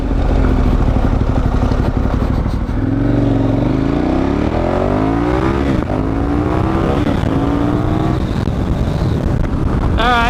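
An adventure motorcycle on Heidenau K60 Scout tires accelerates onto the highway, its engine note climbing steadily through the gears with loud, continuous wind rush over the microphone.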